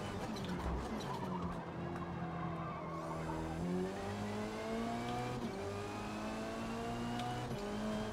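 A front-wheel drive race car in Forza Motorsport revs hard with a buzzing, harmonic engine note, shifting gears and climbing in pitch again, with tire squeal mixed in.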